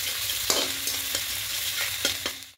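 Chopped capsicum and green chillies frying with garlic in a pan, a continuous soft sizzle broken by a few light utensil knocks and stirs, close and without any talking.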